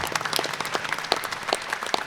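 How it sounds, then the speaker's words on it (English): An audience at a local candidates forum gives the Ward 1 candidates a brief round of applause, a scattered patter of hand claps with a few distinct sharper claps, moderately near. "Let's give the Ward 1 candidates a round of applause."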